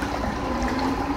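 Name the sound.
floodwater flowing in a flooded city street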